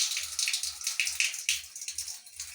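Water from a newly installed shower faucet and hand shower gushes and patters steadily into a tiled bathroom, a bright splashing spray with small pulsing surges, fairly close, with no talk over it.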